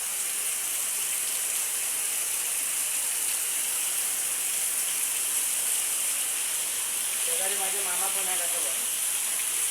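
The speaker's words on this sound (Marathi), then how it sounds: "इथे जोरदार पाऊस आहे" Steady, dense hiss of heavy rain pours without a break, with a brief faint voice surfacing near the end.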